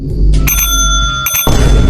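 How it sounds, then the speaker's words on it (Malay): A bicycle bell rings near and loud in two separate bursts, bright metallic trills cut by a short pause, with low background rumble around them. "tak payah main loceng lah"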